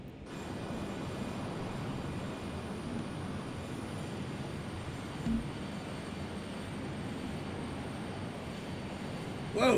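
Learjet 35A jet engine in Microsoft Flight Simulator 2020, a steady broadband roar with a faint high whine held evenly throughout, with a brief thump near the middle and another at the very end.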